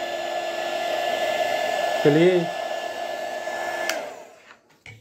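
An ordinary hair dryer blows hot air over paint and glue on a homemade fishing lure, a steady droning hum with a tonal whine that cuts off near the end, and a brief spoken word midway.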